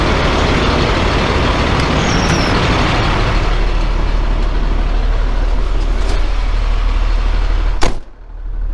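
A flatbed semi truck idles with a loud, steady low rumble, a sharp door or brake-like click near the end, then the sound drops off as the cab shuts.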